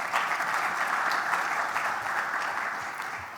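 Steady applause from a crowd at a digital-future event in Oman, loud and continuous throughout with dense clapping and no pauses.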